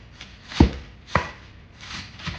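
Knife chopping salad ingredients for a cheeseburger salad on a cutting board, three distinct thumps spaced about half a second apart followed by a softer fourth, close and crisp with no talking.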